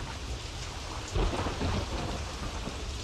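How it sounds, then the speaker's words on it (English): Steady rain with rumbling thunder echoes inside a cave in the King Kong video game, a constant wash of falling water with a heavier thunder swell partway through and no voices. "How's it raining in a cave?"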